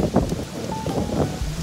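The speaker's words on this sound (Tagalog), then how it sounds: "so medyo mahangin po siya ngayon." Gusty wind buffets the microphone at Maranum Falls in Natividad, Pangasinan, a loud rumbling roar with rustling bursts and no speech.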